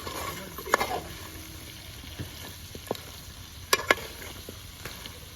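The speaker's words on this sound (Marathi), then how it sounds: "आता हे सगळं मिक्स करायचं आहे" Chicken, seasoned with black pepper, sizzles in a frying pan while a utensil stirs it, giving occasional scraping clinks over a steady background hiss, close and moderately loud.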